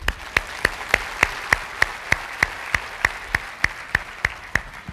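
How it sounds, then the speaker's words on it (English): An auditorium full of educators gives a round of applause: steady, evenly spaced claps at moderate distance, a little over three per second, with no talking. "you all need to give yourselves a round of applause"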